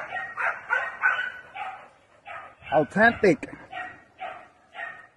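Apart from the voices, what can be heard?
American Bulldogs barking in a kennel yard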